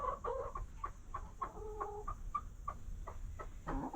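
A broody hen clucks steadily up close, a rhythmic series of short low clucks over a faint steady background hum.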